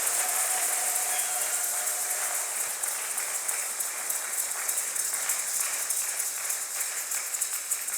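A church congregation applauds and cheers for the Lord, a steady, dense wash of clapping and crowd noise that fills the space evenly and continuously from start to finish, with no voice leading it.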